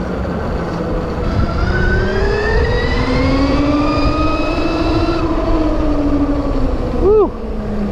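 Electric motorcycle in turbo boost mode on a test ride at AIMExpo 2024, its motor whine climbing steadily in pitch as it accelerates, then cutting off, followed by a brief rising chirp near the end.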